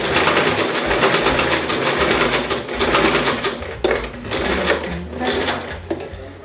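Sewing machine running steadily as it stitches a short backtack across a zipper seam, a continuous close mechanical whir with brief dips in speed and no voices.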